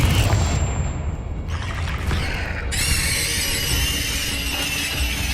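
Confringo explosive spell blasts in Hogwarts Legacy: a heavy boom followed by crackling bursts and a bright shimmering magical tail, loud and close with layered effects and no talk.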